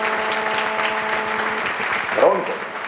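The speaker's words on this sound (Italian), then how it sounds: "Uno scroscio di applausi." Burst of applause in a hall at a party gathering in Rivisondoli, a dense, sustained wash of clapping with a tonal hum and voices mixed in.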